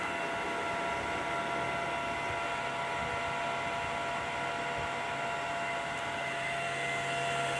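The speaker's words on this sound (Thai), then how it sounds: "พัดลมทำงานแล้วนะครับ" Cooling fan of a 1000W grid-tie inverter running steadily, a constant close whirring hum with a broadband airy rush and faint tonal whine, continuous and unchanging with no talk.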